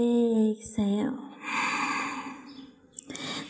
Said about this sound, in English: One more time, deep inhale and exhale.